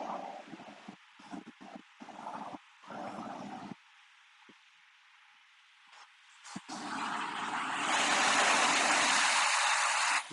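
Water pouring through the gates of a dam on the Scioto River near Westerville, Ohio, a steady broadband rush that starts quieter and swells much louder and nearer toward the end, with brief gaps early on.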